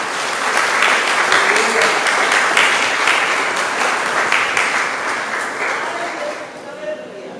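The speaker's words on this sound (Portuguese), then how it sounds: "pode aplaudir a Jesus" A church congregation applauds for Jesus during a sermon, a loud, dense, sustained wash of clapping filling the room and tapering slightly toward the end, with some voices mixed in.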